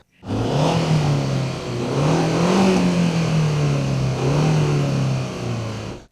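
A Seat Exeo 1.8 turbo car engine revs steadily with a rising and falling growl, loud and close, continuous for several seconds.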